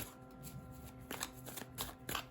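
Tarot cards being shuffled and drawn, quiet riffling bursts and soft card slaps repeating in a few short clusters, close up with no talking.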